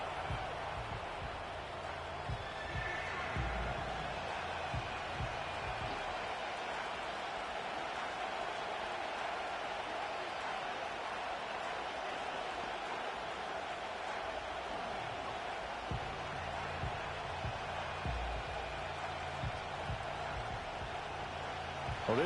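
A steady, loud stadium crowd roar from the Madden NFL 25 football game runs throughout, with a low broadband wash and occasional faint low thumps underneath.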